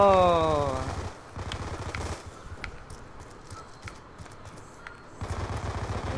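Gunfire in the Roblox game Jailbreak, where players are shooting at each other. Dense, rapid bursts of shots run under a noisy wash, framed by a rising tonal sound at the start and again near the end.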